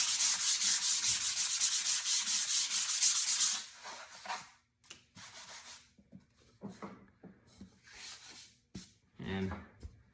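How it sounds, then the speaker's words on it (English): Wood is hand-sanded with 120 grit sandpaper, a steady rhythmic rasping of strokes that runs close and loud for about three seconds, followed by quieter scattered scrapes and handling noises. "Hit it with a little 120 grit sandpaper."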